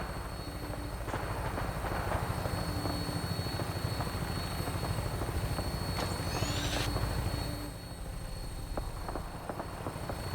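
Fallout 4 vertibird aircraft flying, a steady loud rotor drone with rhythmic chopping throbs continuing throughout, easing slightly near the end.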